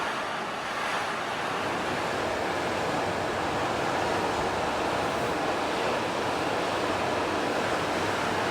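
Steady, broad wash of ocean waves and wind roars close to the microphone without a break on a cruise ship deck at sea.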